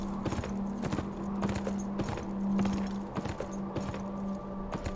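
Horse hooves clip-clop in a steady rhythmic gait in the video game Beyond Two Souls, moderately loud over a low constant hum and ambient game background.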